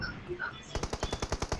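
An M4 rifle fires in PUBG, a rapid automatic burst of about ten evenly spaced loud shots after a brief stretch of quieter game sound.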